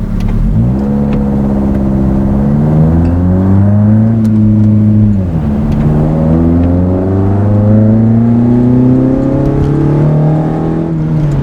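Toyota AW11 with a 4AGE engine on bike carbs revving hard at full throttle, the pitch climbing repeatedly through rising sweeps with a brief drop between pulls, loud and close.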